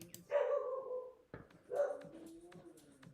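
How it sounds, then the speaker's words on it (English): A dog barks indoors in the background during printmaking carving work, two hoarse barks about a second and a half apart with a sharp knock between them. "That, of course, is the dog. Dog barks at everything."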